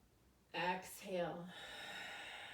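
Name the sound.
exaggerated breathing during yoga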